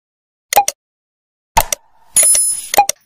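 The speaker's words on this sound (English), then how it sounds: "click the notification bell beside it for you to be updated with my latest uploads" A bright notification-bell sound effect rings in quick repeated dings, like a bicycle bell, in short bursts with gaps of silence between them.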